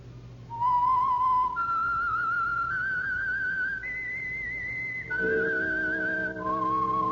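A whistled signal tune opens the Signal Oil radio program The Whistler, a clear solo melody of long held notes that step upward and then drift back down, close and alone with a faint hum beneath.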